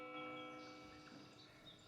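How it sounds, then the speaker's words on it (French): Sustained bell tones with a steady ringing hum that slowly fades, alone with no voices. "Et puis le bruit des cloches."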